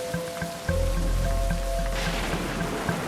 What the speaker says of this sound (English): A heavy downpour begins.